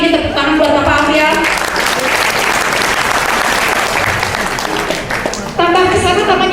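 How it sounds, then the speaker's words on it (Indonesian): A crowd at a network business presentation in Bandung claps loudly and steadily for several seconds while music plays underneath, then a musical sound returns as the applause ends. "ini tepuk tangan buat Bapak Amrial."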